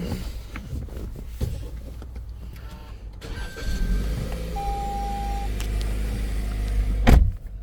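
A Toyota Corolla ZR is started up: a brief electric whir, a soft tone, then the engine catches and settles into a steady low idle, ending with a louder thump or rev near the end.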